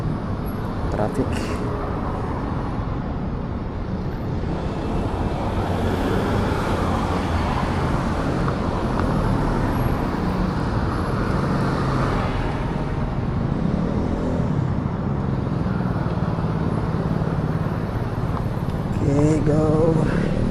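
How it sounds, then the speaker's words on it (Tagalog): Road traffic streams past a cyclist riding along a bike lane in Belgium, a continuous broad rumble of cars and motor vehicles with steady wind-like roar throughout, and someone talks over it. "Traffic."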